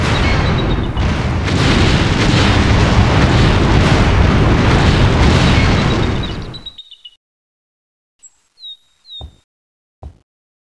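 Ship cannons fire a broadside in Anno 1602, a loud, sustained rolling roar of blasts that fades out, followed by a few short, sharp pops and chirping sounds in the quiet.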